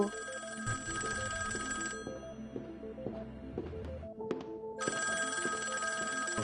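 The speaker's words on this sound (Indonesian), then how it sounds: "Lalu ada telepon berdering." A telephone rings in a tense Squid Game scene, with bright electronic ringing bursts starting and stopping in two long stretches, separated by quieter background sound.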